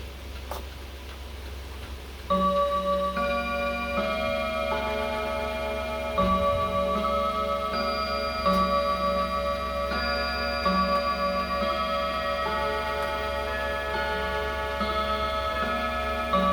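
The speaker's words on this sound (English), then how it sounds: "hear the Black Forest Westminster chime mantle clock chime on its own for the very first time on the hour" A Black Forest art deco Westminster chime mantel clock chimes on the hour, a bell-like melody with tones ringing and overlapping over a soft steady ticking, fairly quiet and close.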